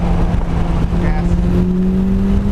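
Engine of a 2006 Mitsubishi Evo9 MR heard from inside the car on the Laguna Seca race track, a loud steady drone with rising tones as it accelerates, a voice speaking briefly over it.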